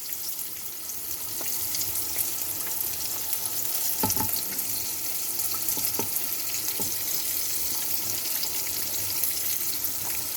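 Steady sizzling and crackling of vegetables frying in a pan with added water, with a few louder pops and clinks partway through, no voices.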